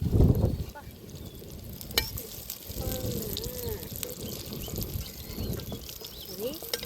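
A cutlet fries in a pan with a steady sizzle and crackle of oil. A brief clatter comes as it is flipped, and voices talk faintly underneath.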